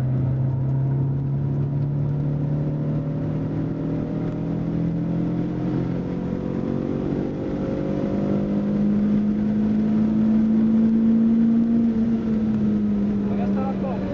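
A car accelerates on a track, its engine note droning and slowly rising in pitch, while a voice in French coaches the driver throughout.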